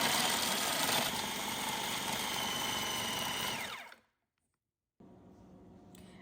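A food processor grinds a peppery breading for beef milanesa, roaring loudly and steadily for about four seconds before cutting off abruptly into silence, then a faint background hum.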